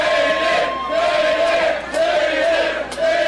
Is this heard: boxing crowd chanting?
yes